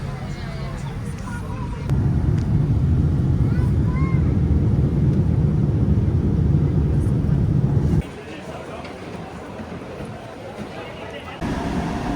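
Passenger airplane cabin noise in flight, a steady low roar and hum that drops and rises abruptly a couple of times, with faint chatter underneath.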